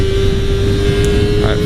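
A Kawasaki Ninja 300 motorcycle engine revs hard toward its red line in second gear, a loud sustained whine with a steady high tone, heard up close from the rider's position.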